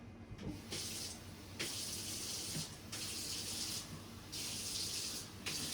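Water runs into a plant infusion ferment in bursts, a steady close hiss that stops and starts about four times, with no talk.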